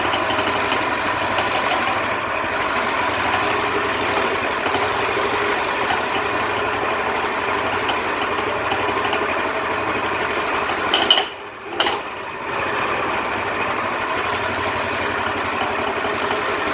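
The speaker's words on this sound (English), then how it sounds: "Yeah, that clutch sounds horrible." A 1940s Lincoln garden tractor engine idles steadily with a rough, noisy clutch, a constant close drone broken by a brief dip and stutter partway through.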